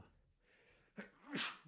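A single sharp human sneeze in a quiet workshop, preceded by a short breathy intake and bursting loud near the end.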